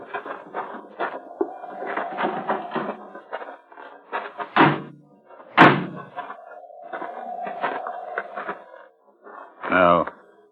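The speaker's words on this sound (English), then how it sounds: "Open the door." In a suspense radio drama, a door creaks open and slams with heavy thuds, a second slam landing near the end, between stretches of tense dialogue.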